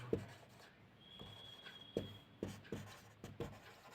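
A marker scrapes across a board as a trigonometry problem is worked out in a classroom-style lesson, giving a string of short, close squeaky strokes with brief pauses between them and no talking.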